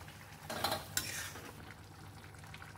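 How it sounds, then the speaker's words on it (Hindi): Paneer being added to a pan of curry and stirred, with a couple of soft scraping, clattering spoon strokes over a quiet background, close and alone. "एंड उसके बाद अभी मैं पनीर ऐड कर दूंगी"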